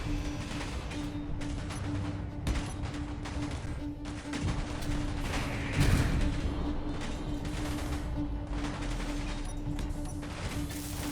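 Turret gunfire in the Space Engineers video game rattles steadily through a dense, continuous din of combat noise, with a heavier impact around the middle and a constant tone running underneath.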